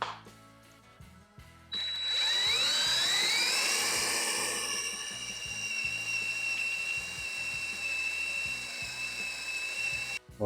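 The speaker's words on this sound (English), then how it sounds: "punch and drill" A power drill boring a hole in a metal motor mount, a rising high whine that settles into a steady drilling tone, close and loud over a rhythmic background beat.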